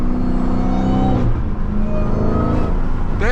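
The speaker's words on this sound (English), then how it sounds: "I know y'all hear that whine, bro" A supercharged Dodge Hellcat Jailbreak revs hard at night, loud engine roar with a high whine that climbs, drops sharply midway, then rises again to close. No one talks over it.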